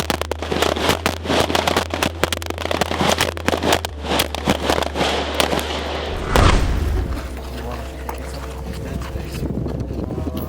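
Rapid gunfire at a shooting course, many sharp shots cracking in quick irregular strings over a low steady hum, with one heavier burst partway through, close and loud.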